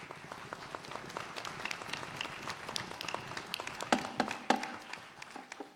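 A town meeting audience claps for several seconds. The applause is faint and distant, made up of scattered, uneven individual claps, with a few sharper claps standing out.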